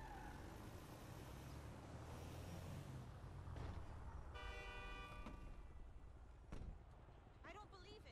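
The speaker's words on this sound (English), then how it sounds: "That's why I honked." A car horn gives one clear, steady honk of about a second, sounding fairly close over quiet road noise and background murmur.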